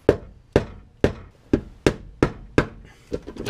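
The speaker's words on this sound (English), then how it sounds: "I'm gonna give it a couple hits with the rubber mallet and hopefully she breaks free" A rubber mallet strikes a ratchet handle to break a bolt free on a Subaru during a subframe lockdown kit install: seven sharp, evenly spaced thuds ring out loud and close, then two lighter taps, with no talk.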